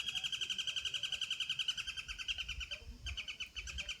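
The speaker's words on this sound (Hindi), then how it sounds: "ये देखिए चिड़ियों की आवाज़ कितनी साफ़ है इस समय शाम को।" Birds chirp in the evening at the Kausani hill station in India, in rapid, repeating trills, bright and steady throughout, with a brief pause near the end before the calls resume. No one speaks.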